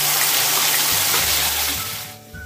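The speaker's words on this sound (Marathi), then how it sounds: "आता आपलं तेल तापलंय, आपण त्याच्यामध्ये वाटण टाकूया, छान तेलात परतून घेऊया ते।" Ground spice paste for misal drops into hot oil and sizzles: a loud, broad, bubbling hiss holds steady, then eases off toward the end.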